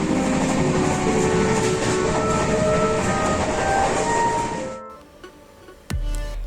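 Inside the Shabdabhedi Superfast Express while it runs, a loud, continuous rumble and rattle fills the carriage, then fades to near quiet before a sudden thump and low hum return.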